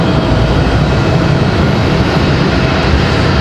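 A Delta CRJ regional jet on approach to Raleigh-Durham airport makes a dense, continuous rumbling roar, loud and unbroken for the whole short stretch, with no voices.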